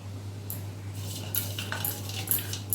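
Cauliflower being mixed with chilli powder, curry leaves and chilli sauce in a bowl for Gobi 65, giving several light clinks and scrapes of utensil against dish over a steady low hum.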